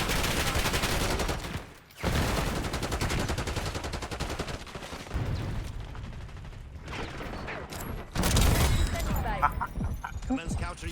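Automatic gun firing in Call of Duty: Black Ops 6 multiplayer, long loud bursts broken by brief gaps, with dense battle noise and game voice lines layered over it.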